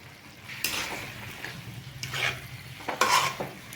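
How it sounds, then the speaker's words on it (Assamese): Duck meat being added to a frying pan with chilli, turmeric, spices and salt and stirred, producing several scraping, clattering stirs against the pan over a faint background sizzle, close by and fairly quiet. "এয়া এতিয়া মাংসখিনি আমি দি আছোঁ।"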